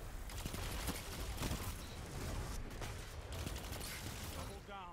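Chroma Rush auto rifle firing in a video game in fast, sustained automatic bursts, loud and continuous with brief mechanical clicks, under game noise and no clear speech.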